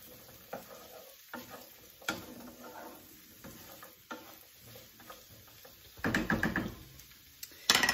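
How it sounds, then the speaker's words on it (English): Ingredients are stirred in an oiled pan with a quiet sizzle, scattered scrapes and knocks of a utensil on the metal, and a louder burst of vigorous stirring near the end, close and with no talk. "I'm just gonna stir this up for a little bit so that oil coats everything and coats the pan"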